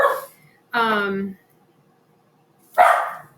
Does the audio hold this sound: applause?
no